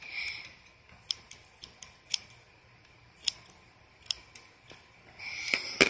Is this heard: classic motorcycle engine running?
no